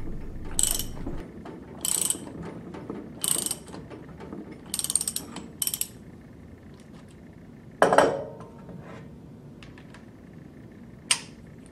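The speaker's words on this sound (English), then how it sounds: "Install the lock nut and tighten to the appropriate torque setting using a deep bore socket and torque wrench." Torque wrench ratchet with a deep bore socket tightening a lock nut on a high speed compact internal gear pump, giving five close bursts of clicking followed by a louder clack and a final sharp click, with no talk.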